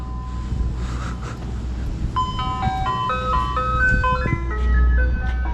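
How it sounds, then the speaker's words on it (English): A tinny ice cream truck jingle plays a simple repeating melody outdoors, loud and fairly close, over a low engine rumble. "Say hi to the ice cream truck."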